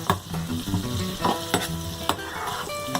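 Butter tempering for dal makhani sizzles and crackles loudly in a pan, with an active close frying hiss, sharp pops and the clatter of stirring.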